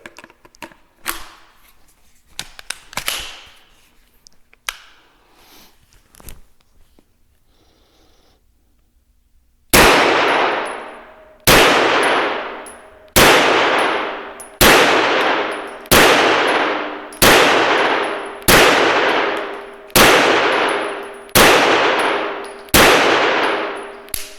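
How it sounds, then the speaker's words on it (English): Kel-Tec Sub2000 9mm carbine fires about ten evenly spaced loud shots at an outdoor range, each crack followed by a ringing metallic ding from steel targets, after a stretch of quieter rustling and handling. "what we're going to shoot first, Keltec Sub2000, 10 round mag, Glock 17 mag."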